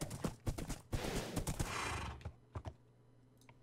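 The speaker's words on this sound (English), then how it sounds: "Penelope, you're such a fast horse." Hooves of a horse named Penelope galloping in a video game, a fast, close, rhythmic run of clip-clop beats that slows to a few scattered steps.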